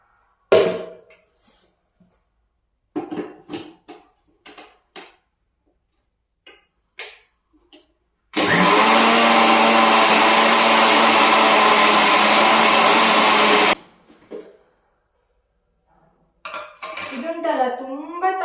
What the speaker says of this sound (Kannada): ಅದನ್ನು ಹಾಕಿ ಈಗ ರುಬ್ಕೊಳ್ಳುವ